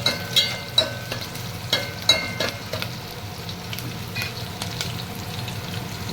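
Garlic and green chilies fry in an oily pan before onion goes in, giving a continuous close sizzle punctuated by sharp spoon scrapes and taps.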